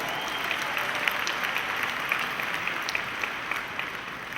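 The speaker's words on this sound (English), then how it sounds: "Please give them a round of applause" Sustained applause from a large audience at a formal awards dinner, welcoming a foundation chair; steady dense clapping with a few sharper claps, fairly distant and even throughout.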